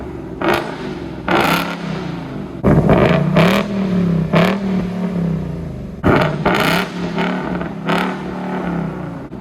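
A Ford Foxbody Cobra with a 347 engine and active exhaust in track mode is revved up three times, each a loud, close blip that falls back to a rumbling idle.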